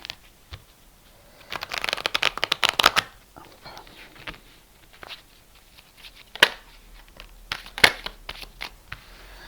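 Oracle cards being shuffled close up, with dense bursts of riffling and flicking in several rounds separated by quiet pauses, and a little faint talk in between.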